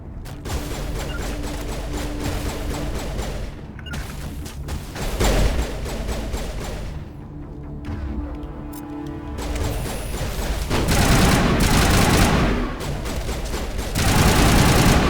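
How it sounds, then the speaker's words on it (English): Assault rifle fire in the Mass Effect Legendary Edition video game: loud, dense bursts of rapid automatic shots with brief pauses and sharp impacts, close and continuous throughout, with no talk over it. "The assault rifle sounds different from the original game."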